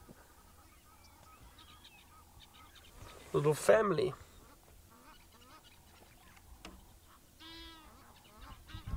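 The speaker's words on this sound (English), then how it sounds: "Can you hear the Egyptian geese calling too?" Egyptian geese with goslings call outdoors at sunrise, giving a loud burst of harsh honking near the middle and a shorter call later over quiet ambience, while a person speaks briefly.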